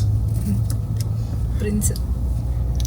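Steady low road rumble of a car driving, heard from inside the cabin as a passenger rides along, with faint voices and small clicks over the constant drone.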